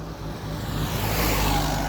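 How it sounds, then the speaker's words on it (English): Steady road traffic noise, a broad continuous rumble and hiss of passing vehicles that swells slightly, with no voices. "once again, I'm sorry for the traffic noise."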